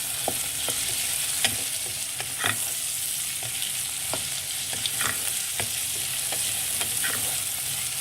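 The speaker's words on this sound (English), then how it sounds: "let's give this a good mix" Tomatoes and turmeric powder fry in a pot while being stirred, with a constant sizzle broken by sharp scrapes and knocks of the spoon, close and without speech.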